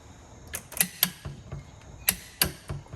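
Torque wrench tightening a car oil filter on a BMW E92, a series of sharp, fairly close ratcheting clicks in irregular bursts against a quiet background.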